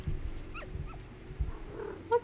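A crystal dog pet in the video game Pet Simulator X gives short whimpering yips and small barks over a low game background hum, with a sharper yip near the end and no talking.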